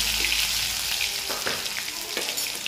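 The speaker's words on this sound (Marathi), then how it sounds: "जिरे झाले की अद्रक लसूणची पेस्ट टाकून घेऊ" Ginger garlic paste frying with cumin seeds in hot oil in a pan, a close, steady sizzle with a few stirring scrapes, no talking.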